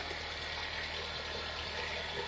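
A 1999 Saturn SL2 engine idles steadily just after a head gasket repair, a smooth, even hum that holds without change for a couple of seconds, with no voices over it.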